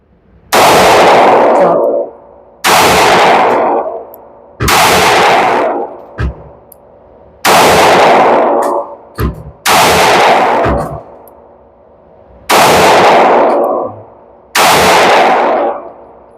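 Eight loud, sharp pistol shots from a Sig Sauer P365 AXG Legion fired at a range, spaced about two seconds apart, each with a long echoing decay, plus a few fainter clanks between them.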